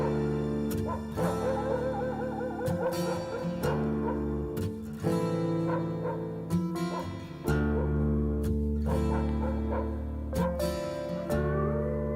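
Dogs barking and whimpering within Pink Floyd's song "Dogs" from the Animals album, yelps and bays woven into the dense music, recurring in short bursts across the track.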